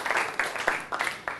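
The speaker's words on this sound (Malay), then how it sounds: "tepukan pada diri sendiri" Light clapping from a few students in a Form 4 additional mathematics class, a handful of separate claps at an uneven pace, moderately close and faint.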